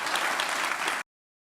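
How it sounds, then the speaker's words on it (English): A studio audience breaks into a dense burst of applause that lasts about a second and then cuts off abruptly into silence. "Yes, clap, please clap."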